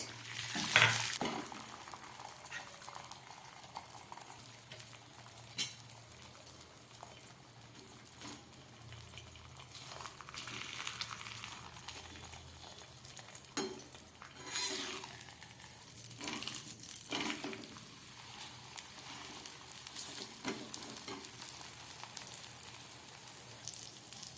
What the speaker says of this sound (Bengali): একদম গ্যাস কমিয়ে আমি এই ভাজাটা করছি